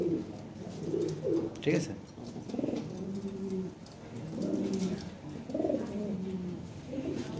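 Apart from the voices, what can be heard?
Lahore pigeons cooing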